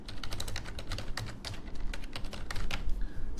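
Rapid typing on a computer keyboard, close and crisp, a quick irregular run of clicky keystrokes with no talking.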